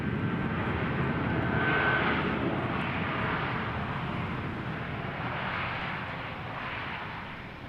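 Fiji Airways airliner at Christchurch Airport, New Zealand, giving off a steady, loud broadband engine roar that holds throughout and eases slightly toward the end.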